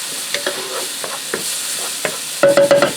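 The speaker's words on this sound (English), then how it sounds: "I'm just going to stir this around so it starts to get fragrant and heats through" Fresh garlic sautéing in a pan for homemade rigatoni and meatballs, with a series of scraping stirs and soft sizzling heard up close, ending in a quick run of louder utensil clatters.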